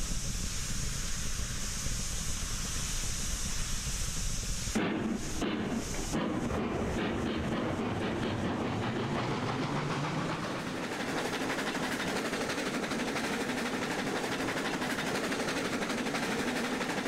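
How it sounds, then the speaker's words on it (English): A train rolling along in Railroads Online, with a steady rumble and wind-like roar that breaks into a series of rapid rail clicks before settling into continuous rolling noise, no talking. "You're moving the whole train, Jeff."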